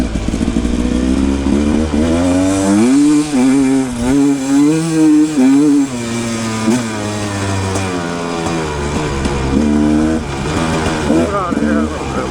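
A Rieju Ranger motorcycle, jetted poorly, riding on sand with its engine running rough and blubbering, wavering pitch rising and falling under load, loud and close throughout, with a voice heard talking over it.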